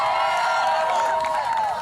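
Children cheer and shout for a boy named William during an Army versus Navy game at a church, a brief dense burst of young voices that stays loud throughout.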